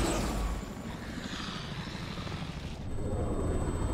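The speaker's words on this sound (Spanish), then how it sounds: "¿Quién está en el helicóptero?" Helicopter in a Resident Evil 6 cutscene, a steady broadband rotor and engine roar that stays loud and constant throughout, with a brief lull and shift near the end.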